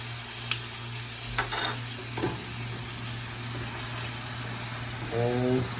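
Ground chuck with garlic and seasoning frying in a pan, a steady low sizzle broken by a few short scrapes and stirs, faint and close, with no talk over it.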